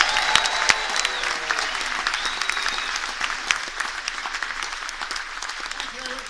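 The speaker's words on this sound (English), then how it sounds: "please, ladies and gentlemen, put your hands together for Captain John Clark!" Audience applause for the captain aboard the Marella Explorer cruise ship during a farewell crew event, steady dense clapping filling the room throughout, with voices faintly mixed in.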